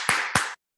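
Two sharp claps from parents at a 4th-grade classroom lesson, close and quick in succession, then silence.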